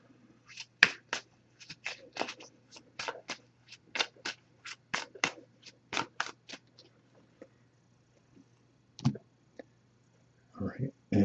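A deck of oracle cards being shuffled by hand, a quick run of crisp riffling clicks for several seconds, then a pause and a few louder handling sounds near the end, close and moderately quiet.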